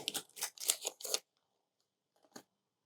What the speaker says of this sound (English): let's take the cellophane off on the watch face